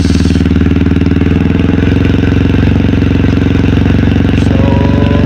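A motorcycle engine fitted with an open Akrapovic muffler is held at about 2,500 RPM, giving a loud, steady, close-up throb with a rapid pulsing exhaust beat and no talk.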